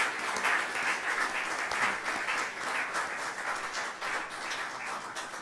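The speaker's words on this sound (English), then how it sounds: "I'd like us to clap for all the international faculties that have been coming" A conference audience at a tenth-anniversary research meeting applauds the international faculty, with dense, sustained clapping from many hands that stays fairly even, swells slightly and carries on throughout.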